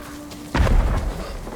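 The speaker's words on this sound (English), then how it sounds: "Fireworks!" A firework in the video game Ghost of Tsushima bursts with a single deep boom, followed by a crackling, rumbling decay over a low game-world background.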